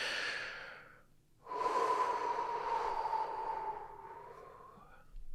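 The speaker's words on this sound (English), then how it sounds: "Nice big deep breath." Two long deep breaths: a quick inhale fading after about a second, then a longer, fuller breath drawn slowly and steadily for several seconds, close and clear with no talk.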